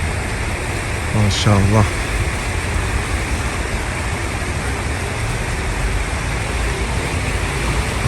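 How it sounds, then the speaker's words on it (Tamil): Water flows steadily inside Qatar's airport, a continuous broadband rush like an indoor fountain or cascade, constant throughout, with a brief voice speaking over it near the start. "தண்ணி சத்தம் எப்போது இருந்தாலே அது ஒரு தனி இனிமை தான்"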